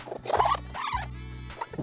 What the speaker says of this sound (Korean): 양면 테이프를 제거를 하시고